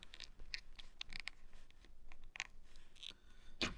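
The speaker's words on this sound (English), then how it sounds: "Now notice that here you have this layer, and you just have to fold it up." Origami paper crinkles and scratches softly up close as a layer is folded up, a faint run of small rustles and taps with no talk.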